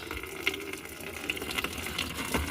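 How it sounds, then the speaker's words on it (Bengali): Tap water running steadily into a container, a continuous gushing flow with a few brief splashy accents, fairly close and heard alone without voices. "জল ভরতে চলো না কল খোলো কল খোলো"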